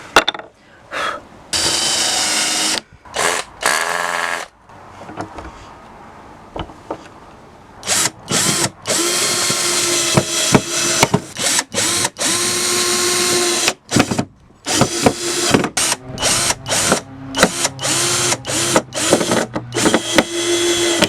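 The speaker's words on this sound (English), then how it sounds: "I'm going to fix these guys now and then drill them back in" A power drill whirs in repeated bursts of varying length, driving screws into wood, with brief pauses and clunks between runs.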